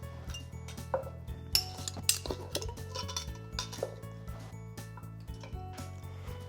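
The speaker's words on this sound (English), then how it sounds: "I'm ready to place my jars inside." Glass jars are set into a Ball electric canning system for pickles. They make a series of light clinks and knocks of glass against the metal rack, fairly close and quiet, over a low hum.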